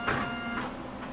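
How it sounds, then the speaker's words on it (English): A 1981 Wangwriter printer mechanism runs with its lever held up, giving a steady close mechanical whir and buzz with brief louder surges, alone with no talk. "the printer itself is very much so alive"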